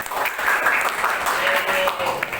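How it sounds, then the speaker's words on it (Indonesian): Classroom applause for a student group, a dense wash of clapping from many hands lasting a couple of seconds, with voices mixed in. "Beri aplaus untuk kelompok artikel."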